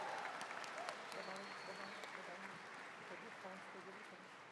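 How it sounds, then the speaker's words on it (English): Faint, distant applause from a university commencement audience, a broad wash of clapping heard far off under a murmur of voices and faint tonal sounds, fairly even throughout. "Can we please give Marcus another round of applause for that wonderful rendition?"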